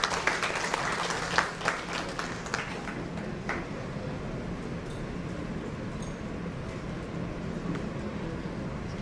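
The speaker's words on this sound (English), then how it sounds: "Can we have a round of applause for him?" Audience applause at a business conference in Mumbai, a crowd clapping loudly at first with distinct sharp claps, then thinning into a softer, fading patter with some background hum.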